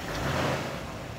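A 1958 Chevrolet Corvette with its period-correct 283 V8 rated at 230 horsepower idles steadily after firing up, a close, even low rumble with no talk over it.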